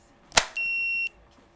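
Sega Dreamcast controller accessory giving a single sharp electronic beep, a steady pure tone held for about half a second just after a brief click, heard alone in a quiet room.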